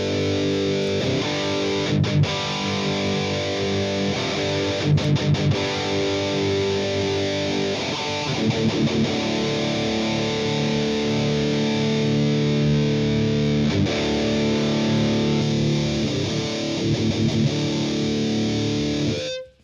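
Heavily distorted electric guitar through an amp sim plugin, old-school death metal tone, chugs and sustains continuously, dense and loud, with brief rhythmic stops and palm-muted bursts.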